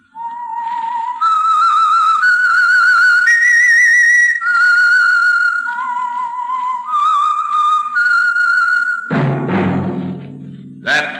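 A lone whistled signal tune for the Signal Oil radio program The Whistler rings out clear and loud as a slow, stepping melody of held notes, then ends in a brief burst of orchestral music.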